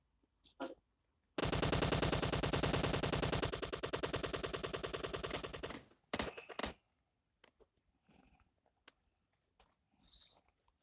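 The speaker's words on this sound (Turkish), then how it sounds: "Bu abim binadan mı sıkıyor? Nereden sıkıyor ya?" Rapid automatic gunfire rattles in the PUBG Mobile video game, a long sustained burst of several seconds followed by scattered single shots and short bursts, fairly close.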